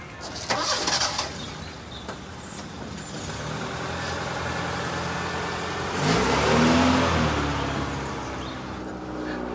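A car engine turns over and settles into a steady idle, then revs up and pulls away, the sound swelling and fading as it drives off outdoors, with a bird calling faintly.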